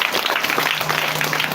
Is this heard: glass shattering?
no